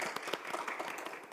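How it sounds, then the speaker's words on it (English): Scattered applause from a conference audience at a peace forum session, light and somewhat uneven, heard fairly faint with no talk over it. "Please give him a big round of applause."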